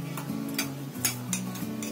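Spoon whisking milk cream (malai) with sugar in a small bowl, quick scraping strokes against the sides over a steady low hum, close and moderately loud, with no talking.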